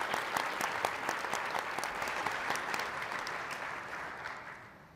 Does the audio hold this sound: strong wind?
no